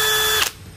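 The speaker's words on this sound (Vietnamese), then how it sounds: "mình có thể điều tiết cái tốc độ bằng cò, bóp nhẹ qua chậm, mạnh hơn thì qua nhanh" A DeWalt DCD996 cordless hammer drill whirs at high speed for a short burst, then the trigger releases and the motor winds down and stops, with no talking.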